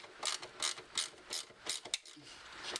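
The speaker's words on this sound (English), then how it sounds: "then tighten the 2 on the underside under here" A hand ratchet tightening bolts on a side step bracket under a Land Rover Discovery 3, giving a series of about eight quick rasping clicks in a steady rhythm, close and fairly quiet.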